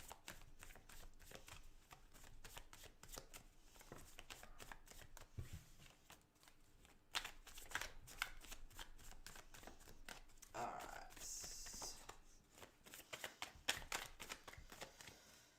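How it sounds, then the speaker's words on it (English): Tarot cards being shuffled during a live reading, a quiet, steady run of rapid riffling and flicking that carries on throughout, with a voice talking faintly underneath. "Sorry, Lorna, I'm just going to give the cards a good shuffle."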